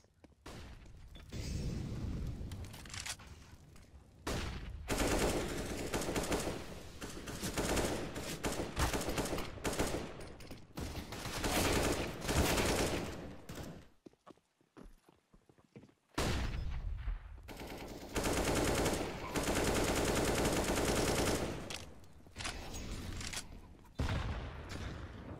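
Counter-Strike gunfire in a competitive match, with dense bursts of rapid shots and booming fire filling most of the stretch, broken by a brief lull before heavy firing resumes.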